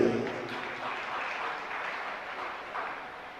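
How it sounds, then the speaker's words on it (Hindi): A crowd at a Jain religious discourse applauds in a steady wash of clapping that holds at even strength for several seconds, moderately distant, with no speech over it. "ताली बजाइए"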